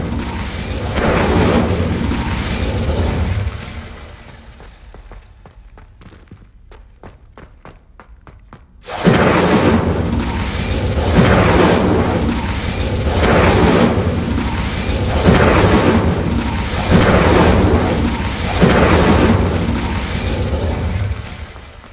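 Fire spell blasts from the Incendio charm in Hogwarts Legacy, heard as loud, repeated whooshing bursts in a steady rhythm after a brief quieter stretch of sharp clicks and thuds, with no talk over them.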